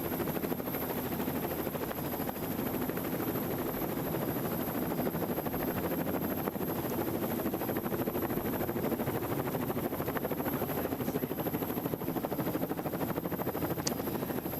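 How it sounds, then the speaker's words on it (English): A helicopter flying in to refuel over countryside during a women's Tour of Britain cycling stage, a steady continuous rotor and engine drone at moderate level with no talking. "The helicopter coming in to refuel, be back later in the race."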